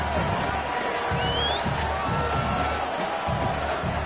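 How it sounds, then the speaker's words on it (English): Stadium crowd in a college football video game with the Auburn Tigers, a steady roar of cheering and whooping that swells in waves ahead of a field goal attempt, with a commentator talking over it. "This crowd trying to do its part to get inside the kicker's head."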